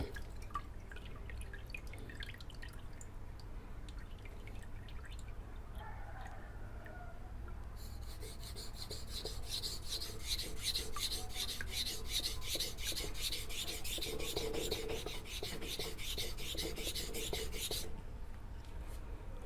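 A knife being sharpened on a natural whetstone wetted with plain water, with a quiet wet scraping at first, then a brighter, louder, steady rasping of strokes for several seconds before it stops near the end.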